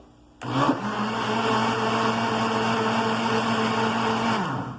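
A kitchen blender whirs steadily for several seconds, briefly mixing bread dough ingredients for a coconut butter bread, switching on abruptly at full speed and spinning down at the end.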